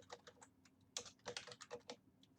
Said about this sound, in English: So then let's type in